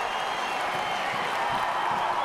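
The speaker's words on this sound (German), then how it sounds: "Der Jubel im Messestadion war noch nicht verstummt" Ice hockey fans roar and cheer inside the Messestadion after the 1:1 equaliser in the EC hagn-leone versus VEU Feldkirch final. A dense, steady wall of crowd noise holds at full strength throughout.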